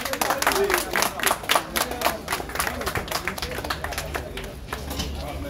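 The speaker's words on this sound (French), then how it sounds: "Applaudissez s'il vous plaît" People at the official opening of a shop in Abidjan clap for a fishing-port director, with the claps uneven and fairly close and a voice speaking over them throughout.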